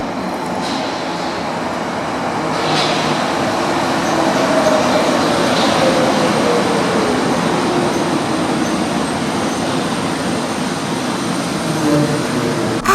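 A Berlin U-Bahn train, an old two-coach set on a quiet branch line, runs with a steady loud rumble and a faint high whine throughout, with no voices.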